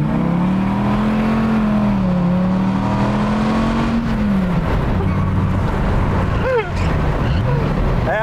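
A Dodge Viper's engine revs hard under acceleration, loud and close, the pitch climbing and sliding as the throttle rises and eases, then a sharp shift near the end.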